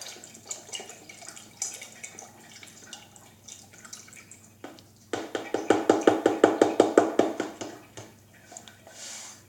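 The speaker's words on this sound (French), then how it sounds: "Puis après, verser tout le lait qui restait." Milk poured from a container into mini crêpe batter in a bowl, giving a quick run of rhythmic glugging splashes in the middle, bracketed by quieter handling and dripping sounds.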